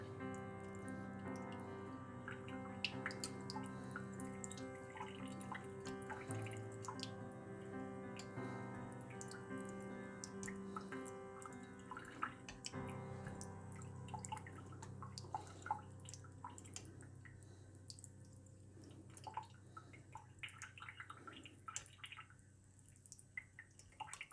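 A stream of water runs onto a straight razor hone, soft and steady with scattered drips and light taps.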